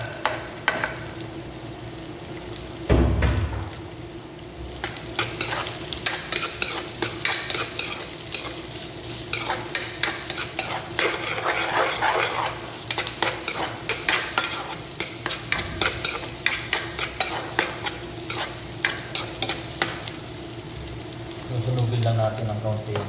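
Chicken adobo with garlic and chili stir-frying in a pan, a loud close sizzle under rhythmic scraping strokes of a utensil that repeat throughout.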